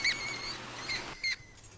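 Lab rats at Concordia University squeaking in short, high-pitched chirps, three or four brief calls over a low background hiss, faint and close.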